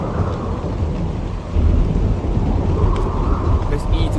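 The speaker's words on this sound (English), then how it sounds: "It's raining pretty hard." Heavy rain pours steadily in the horror video game The Kidnap, with a deep rumble of thunder swelling partway through, loud and continuous.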